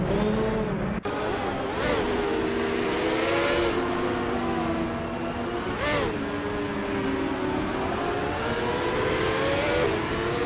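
Race cars in a racing video game drone steadily with engines revving and shifting pitch, and several cars whoosh past in turn over a constant engine roar.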